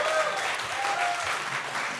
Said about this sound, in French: Oui, applaudissez-vous